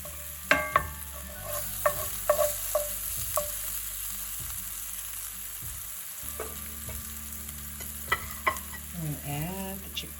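Ginger and spices cook gently in a pan, a soft, low sizzle beneath scattered sharp taps and scrapes of a spoon stirring against the pan, close and unhurried.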